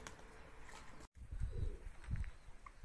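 Pet pigeons or doves on a bath day outdoors give a few soft low coos in short bursts, fairly close but quiet over a faint background hiss.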